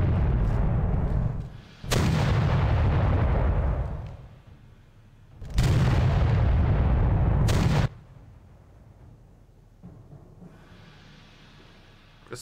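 Heavy naval gunfire in the World War 2 game Victory at Sea Atlantic: two loud booming salvos several seconds apart, each with a long rumbling decay, followed by quieter distant rumble.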